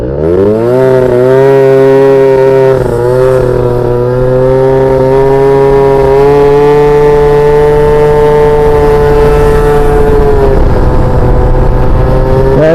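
Small-frame Yamaha Jog scooter engine revving up and holding a high, buzzing pitch, loud and close, the tone rising, steadying, then dipping slightly near the end.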